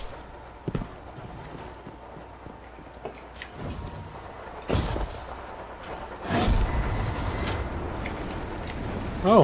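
Grenades going off in Destiny 2 combat, several dull booms at irregular intervals with louder blasts later on, amid gunfire and game noise.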